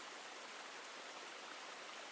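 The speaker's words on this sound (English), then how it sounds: "The river spoke in a constant murmur, its voice weaving through the tall reeds and over the polished stones like an old lullaby." A river in a Middle Stone Age setting runs past tall reeds and over polished stones, giving a steady, even rushing murmur that stays constant and close throughout, with no voices.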